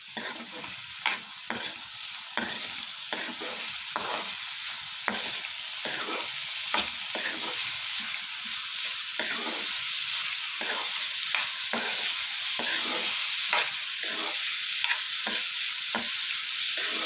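Onions and dried fish frying together in a pan as a curry base, a steady close sizzle with frequent clicking spatula stirs and scrapes throughout, no speech.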